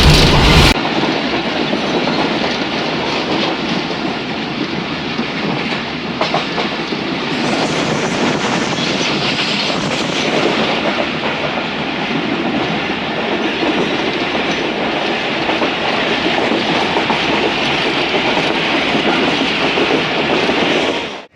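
The Awam Express passenger train rolls on the rails between Sohawa and Rawalpindi, giving a steady, loud rumble and rhythmic clickety-clack that continue throughout with a soft hiss and no talking.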